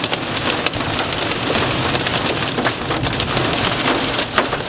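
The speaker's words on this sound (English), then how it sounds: "just going slow as to not break the windshield from hail" Heavy rain and hail hammer a car driving slowly on flooded roads in a thunderstorm, a dense, loud, continuous roar of impacts on the roof and windshield with occasional sharper hits.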